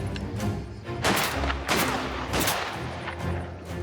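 Gunfire in the video game Mafia The Old Country, a run of loud close shots and booming bursts over a dense game soundscape, with no speech.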